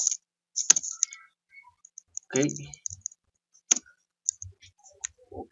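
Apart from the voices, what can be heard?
typing on computer keyboard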